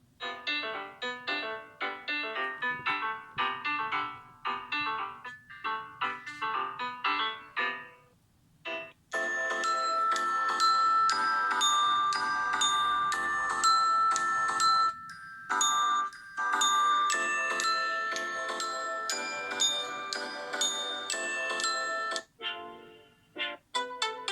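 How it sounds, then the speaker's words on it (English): A Samsung Galaxy S8 ringtone at maximum volume plays a loud, bright repeating chiming melody with short gaps between phrases, sustained for over twenty seconds. "Ringtone, there we go. Okay, let's increase the volume to max."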